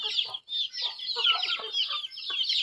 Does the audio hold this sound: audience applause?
no